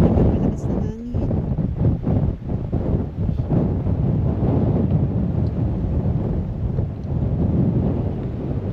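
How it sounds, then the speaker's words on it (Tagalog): Strong wind gusts roar and buffet the microphone outdoors near the sea in Wellington, New Zealand, a continuous low rumble with rising and falling swells throughout. "Ngayon na naman malakas na hangin."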